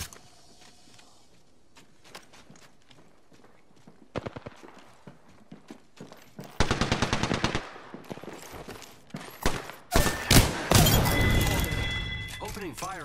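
Apex Legends gunfire comes in rapid automatic bursts, first scattered single shots, then dense loud volleys with sharp cracks and metallic impacts, close and punchy, while a voice speaks intermittently.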